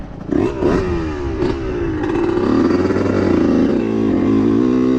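A 2-stroke dirt bike is ridden over rocky terrain, its clutch engagement worn near the end of travel. The engine revs loudly and close by, with rising and falling pitch sweeps as the throttle varies, and no talking.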